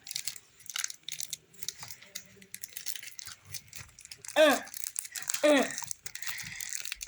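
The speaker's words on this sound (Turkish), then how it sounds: "Yırt gitsin arkadaşım yırt. Zor yırtıldı." A Brawl Stars card pack is torn open by hand, with soft crinkling and two sharp, close tearing rips near the end while a person talks.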